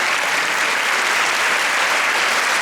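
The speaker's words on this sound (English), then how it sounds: "A round of applause for him." An audience applauding at a school diamond jubilee event in Mumbai, a dense, steady wash of clapping that stays loud and unbroken throughout.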